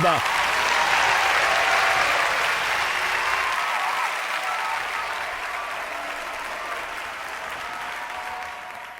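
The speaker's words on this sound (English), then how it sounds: "Let's give them all a round of applause." A theatre audience breaks into dense, continuous applause before a musical's world premiere, a loud, full wash of clapping that slowly fades over about nine seconds.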